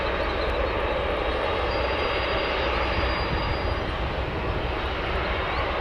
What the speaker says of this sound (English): As the 777's just lifted off 10 left